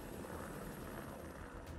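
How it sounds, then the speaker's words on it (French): In the Hitman World of Assassination video game, a helicopter lifts off with a dense, steady rotor and engine roar that stays loud and continuous throughout. "Il décolle vite ce hélicoptère."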